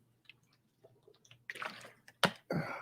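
Someone drinks water up close, with quiet sips, wet mouth sounds and swallowing building to a few louder gulps at the end, no talking.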